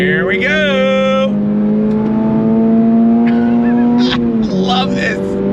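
A 2023 Toyota GR86 engine pulls hard under throttle, its loud buzzy drone climbing steadily in pitch before a brief dip at a shift. Excited talk rides over the engine.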